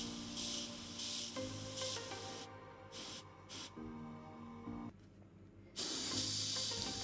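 An airbrush sprays colored cocoa butter into a chocolate mold in bursts of loud, steady hiss, stopping briefly between passes, with a faint mechanical hum underneath.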